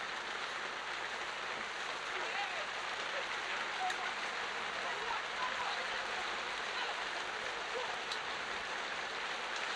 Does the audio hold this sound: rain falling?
yes